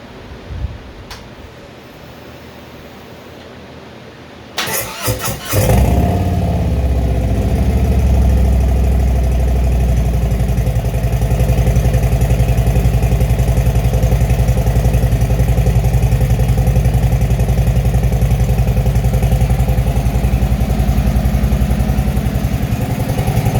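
A motorcycle engine with stock exhaust pipes cranks briefly, catches and starts, then settles into a steady, loud, close idle that runs for most of the clip with no talking.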